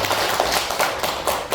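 Audience applause at a Buddhist dharma gathering, a rough, uneven patter of clapping with a few louder bursts, moderately close and continuous through the short stretch.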